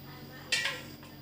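A knife slices through dudh kochu (milk taro) in a home kitchen, making one brief, crisp cutting scrape up close against a quiet background.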